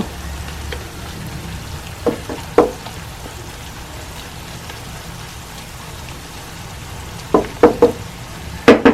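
Mashed dried fish (tuyo) frying in olive oil for a sardine pasta, a soft continuous sizzle with sharp crackles and spatula taps clustered near the start and the end, no talk.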